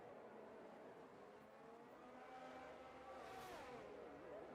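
An Alpine racing car engine in a racing video game whines at high revs around the Hungary circuit, pitch climbing and dropping through gear changes, a faint tire squeal near the end.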